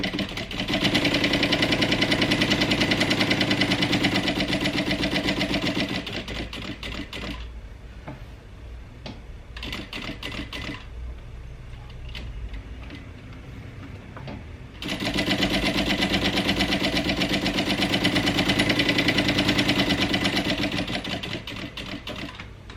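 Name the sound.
sewing machine stitching around boxes on cotton bag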